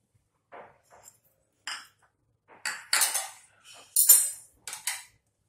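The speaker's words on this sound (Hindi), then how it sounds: "तो हम एक मिक्सिंग बाउल लेंगे और इसमें डालेंगे बेसन और साथ में हम डालेंगे रवा।" Gram flour and semolina tipped into a mixing bowl, heard as a series of short clinks and scrapes of a utensil against the bowl, some faint and some sharper, with brief silences between.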